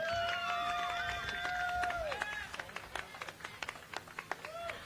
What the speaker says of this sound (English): Let's give her a big round of applause as she comes up.